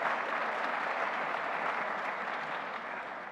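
An audience applauds at a film festival introduction, a steady, moderately distant wash of clapping from many hands that holds evenly and begins to taper toward the end.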